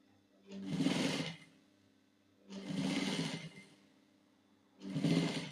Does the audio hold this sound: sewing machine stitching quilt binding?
yes